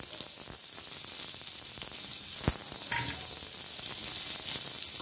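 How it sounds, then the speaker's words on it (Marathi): Chopped onion fries in a pan with a steady, close sizzle, stirred now and then, with no talking. "कांदा पण छान परतून द्यायचा आपल्याला गोल्डन कलर येतोवर."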